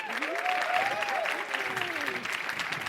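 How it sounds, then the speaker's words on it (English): An audience at a panel discussion applauds warmly, dense continuous clapping with cheering and whooping voices rising over it. "You all applauding makes me emotional this morning"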